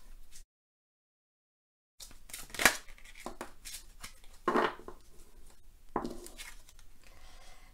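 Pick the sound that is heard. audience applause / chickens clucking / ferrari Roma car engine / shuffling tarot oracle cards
shuffling tarot oracle cards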